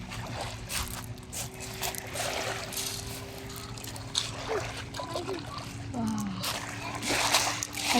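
Shallow water splashes and trickles as someone wades among pebbles at a beach, soft intermittent sloshes close by under ongoing talk.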